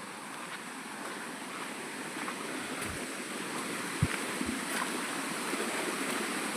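A large waterfall in the Palakonda hills of Kadapa rushes as a soft, continuous roar heard from some distance, with a few faint low thumps.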